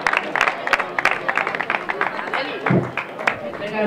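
Scattered applause from the crowd at an award ceremony for the X Millas a Santa Eulalia race, uneven claps mixed with crowd murmur and a voice briefly speaking over it.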